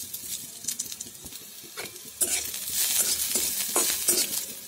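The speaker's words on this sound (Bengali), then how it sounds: "পেঁয়াজটা ভাজা ভাজা হয়ে গেছে" Onions fry in a pan for a boiled-egg recipe, with close scraping stirs over a soft sizzle that swells louder and hiss-like after the first couple of seconds; no one speaks.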